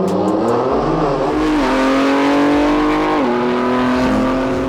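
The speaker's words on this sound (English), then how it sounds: "So the next day we arrived at the racetrack. I lined up first and I launched on a practice run." A BMW M340i engine revs hard and accelerates off the line at a racetrack, shifting up through gears with rising pitch, loud and close.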